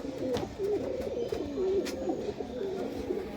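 Pigeons coo steadily and close by, a throaty rolling murmur that repeats through the whole stretch. The flock belongs to a lot of flying and cargo-line Punjabi pigeons offered for sale, with faint rustling around them.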